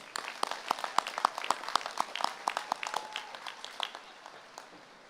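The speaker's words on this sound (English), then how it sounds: "Let's give them one more round of applause." A crowd at a high school graduation ceremony gives a round of applause, a burst of clapping that starts strong and gradually thins out over a few seconds.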